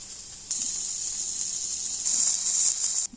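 Beef patties sizzle on an outdoor cook surface, a steady close broadband hiss that swells louder midway and cuts off abruptly near the end.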